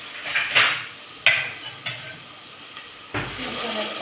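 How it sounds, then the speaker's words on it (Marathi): Spice masala of garam masala and coriander powder sizzling in a pan for chicken gravy, with a few sharp bursts as water is splashed in, each flaring into a loud hiss before fading, then a steady sizzle with clinks of utensils. "म्हणून आपण थोडंसं पाणी टाकू."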